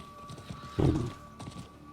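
A horse's hooves clip-clop in the Diablo IV video game, giving a few quick, fairly loud thuds at a walking pace against a soft background hum.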